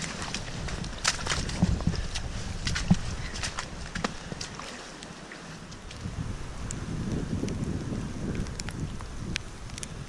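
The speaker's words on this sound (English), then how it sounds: "Now we get near the top of the gap, the wind's picking up." Steady wind gusting near the top of a mountain gap on a snowy alpine hiking track in March, a broad continuous rush with intermittent buffeting on the microphone and faint rustling throughout.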